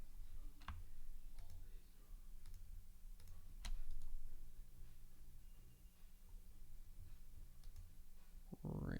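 Computer keyboard typing and clicking under a steady background hum while someone works in Blender 3D software, with scattered keystrokes and clicks at moderate distance.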